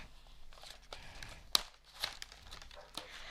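Plastic toy packaging crinkles and tears in quiet, irregular bursts as a toy is pulled from its box, with a couple of sharper snaps.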